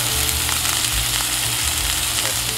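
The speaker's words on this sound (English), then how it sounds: "Look at that sizzling." Pork frying on a stovetop, a loud and steady close-up sizzle with crackling spatter running continuously, and no voices over it.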